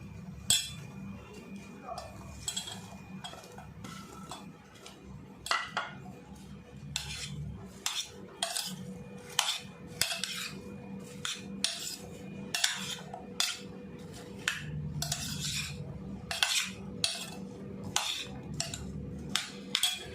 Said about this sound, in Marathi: पण मी आधी हे सगळं मिक्स करते